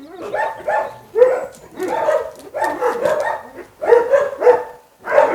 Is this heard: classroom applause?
no